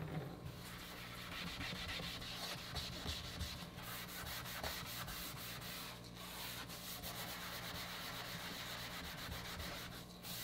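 A baking soda melamine sponge scrubs rust and grime on a kitchen sink in a steady continuous rubbing rhythm, close and loud, carrying on without a break and with no one talking.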